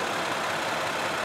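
Brief, even idle rumble from the 6-litre V8 bi-turbo engine of a Brabus S Class, continuous and unchanging, with no talking.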